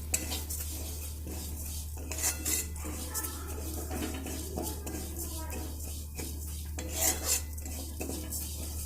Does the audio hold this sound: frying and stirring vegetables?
yes